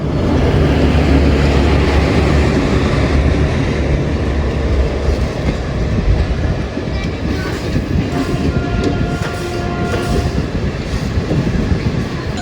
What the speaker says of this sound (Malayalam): ഇപ്പോൾ പോയ വണ്ടിയില്ലേ, ആ വണ്ടി വിരങ്കം ജംഗ്ഷൻ അഹമ്മദാബാദിലേക്ക് വന്ന മെമു ആണ്